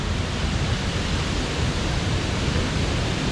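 Roaring waterfalls in a humid jungle on Réunion Island, with a second fall plunging at the bottom of the cascades: a steady, dense, loud wash of rushing water that stays constant throughout, with no voices.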